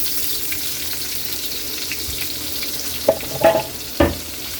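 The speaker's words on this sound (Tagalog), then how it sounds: "ilagay na natin yung bawang. Pagsama na lang natin yung sibuyas" Ginger, garlic and onion fry in a pan for jackfruit in coconut milk, an even background sizzle broken by a few clattering spatula knocks and scrapes toward the end, nearby and without speech.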